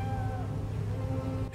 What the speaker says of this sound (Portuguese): Escutando um gato.